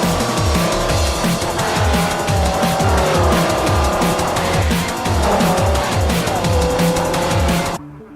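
A 2008 Dodge Viper races in Forza Motorsport 4, its engine roaring loud and continuous with rising and falling pitch, tires squealing through corners, then cutting off abruptly at the end.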